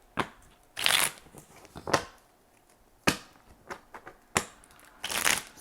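Tarot cards shuffled in a series of crisp riffling bursts separated by short pauses and soft taps, close and fairly quiet, with no talking.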